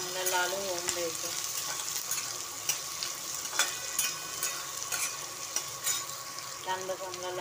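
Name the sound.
onion frying in oil with chillies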